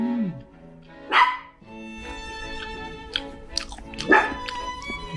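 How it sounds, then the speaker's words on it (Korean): A dog at a pet-friendly hotel in Gangneung gives two loud, close barks a few seconds apart, with quieter yips and chewing-like sounds between them. "봄이가 계속 짖는데"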